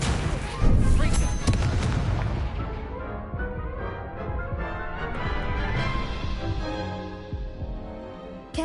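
Confringo fire spell blasts in Hogwarts Legacy: a heavy booming impact early on, then a long ringing, decaying rumble with musical tones fading out.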